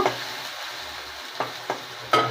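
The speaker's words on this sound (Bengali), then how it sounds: "এই টমেটোটা দিয়ে দেবো পুরোটা। একটু নাড়াচাড়া করব" Chopped tomato sizzles quietly in a pan for khichuri and alur dom, with a few soft scrapes of stirring at intervals.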